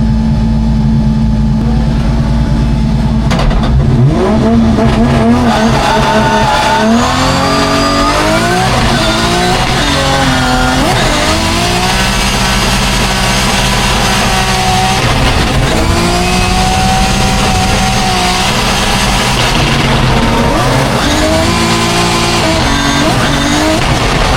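Drift car engine revving hard on an F1-style drift circuit in China, loud and continuous with rising and falling revs, gear changes and tyre squeal throughout.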